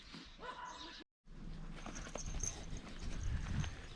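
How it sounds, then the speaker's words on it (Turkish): A few dog barks sound at a distance amid outdoor morning campsite background noise in Korea, with a brief dropout partway through and some rustling and thumps nearby. "Köpeklerin sabah mesaisi başlamıştır."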